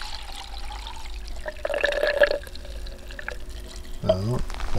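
Water gurgles and pours through a drainage line during a water test, with a bubbling surge partway through, alongside a faint mechanical hum and a brief voice.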